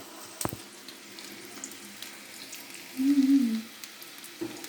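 Pasta chips frying in hot oil, a faint steady sizzle and bubbling under a quiet background, with a brief louder gurgling swell near the middle and a sharp tap early on.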